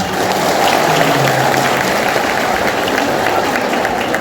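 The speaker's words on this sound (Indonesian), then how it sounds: "Tepuk tangan dulu lah ya." Steady, dense applause from a Ramadan gathering audience, sustained at an even level for several seconds with no talk over it.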